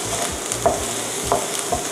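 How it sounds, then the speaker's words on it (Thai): Garlic is stir-fried in hot oil in a pan for a Japanese-style mushroom dish, with a steady sizzle under a few quick scraping strokes of the spatula. "ใส่กระเทียมลงไปผัดค่ะ"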